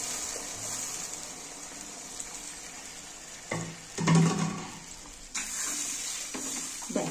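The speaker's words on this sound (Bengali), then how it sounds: "এবার আমি জল দিয়ে দেব।" Water poured into a bubbling katla fish curry with potato and kochu in a pan, a steady close sizzle broken by a brief splashing gush, then the hiss carries on.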